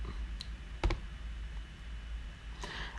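A computer mouse clicks on the PayPal sign-up page, giving a few faint, quick, close clicks over a quiet background.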